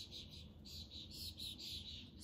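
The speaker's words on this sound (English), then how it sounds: "Starlings, that's that distress call." Starlings giving repeated harsh distress calls, a steady run of rasping squawks spread across the whole stretch, fairly close over a low background rumble.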